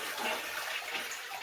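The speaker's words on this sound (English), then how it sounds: "let me try to flush it, and it should just flush down." A toilet being flushed while unclogging, a short soft rush of swirling water heard alone and fairly quiet.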